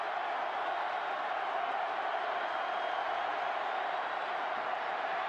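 A large football stadium crowd at a 2005 Auburn–Georgia college game roars on third down, a dense, steady wash of distant cheering noise that holds level throughout.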